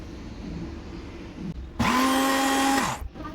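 An electric grinder whirs loudly as it blends coriander, mint and crushed chillies into chutney, a short roaring burst of about a second with a steady motor whine, starting and stopping abruptly amid quiet household background.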